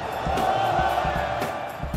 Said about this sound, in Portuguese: a torcida já começou a gritar olé